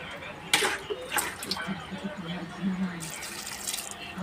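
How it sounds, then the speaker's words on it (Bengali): Cold tap water runs over freshly boiled pasta to rinse it, a fairly steady splashing and trickling with a few sharper splats near the start, close by in a home kitchen. "আমি একটু ঠান্ডা জল দিয়ে ধুয়ে নেবো।"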